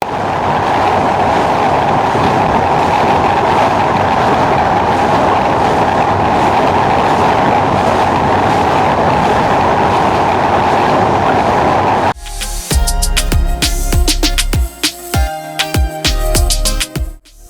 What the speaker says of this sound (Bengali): পদ্মা সেতুতে জাহানাবাদ এক্সপ্রেস ট্রেনের গতি হচ্ছে 90+